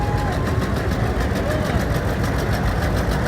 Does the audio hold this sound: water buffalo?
no